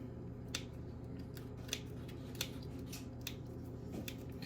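Scissors snip at dried chili peppers for chicken al pastor burritos, giving a handful of quiet, separate clicky cuts spaced about a second apart over a low steady hum.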